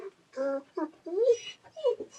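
An upset dog whimpers in short, pleading bursts of high whines and yips, close by and fairly loud, with breaks between each cry.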